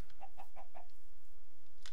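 Minecraft chickens cluck in a quick run of four soft, nasal notes, followed by a brief quiet stretch and a faint final cluck, heard alone at low volume without talk.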